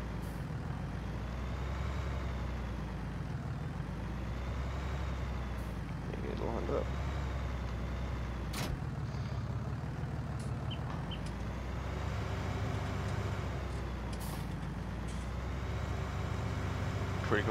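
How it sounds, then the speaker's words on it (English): A large tractor in Farming Simulator idles and revs in a low, continuous drone that swells and dips, with occasional hisses and clicks over it and a voice talking intermittently. "That's a pretty big tractor."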